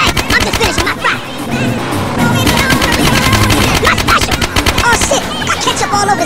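Rapid automatic gunfire from Grand Theft Auto: San Andreas rattles in dense, continuous bursts, loud and close, with barely a pause across the stretch.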